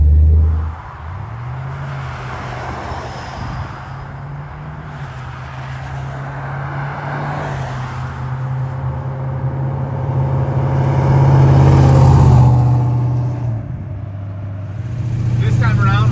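A 1962 Ford Falcon gasser drives through cold, snowy weather, its engine droning low and steady, the note rising toward a louder swell before easing off again.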